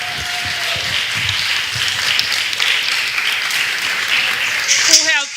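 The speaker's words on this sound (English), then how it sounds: "let's give our Sunday school teachers a round of applause" A church congregation at an Anglican Christmas service in the Bahamas applauds its Sunday school teachers, steady broad clapping filling the room under voices that keep murmuring throughout.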